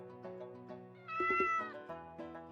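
A cat in a detective video game gives a clear, tonal meow, short and close, set over a soft steady background hum.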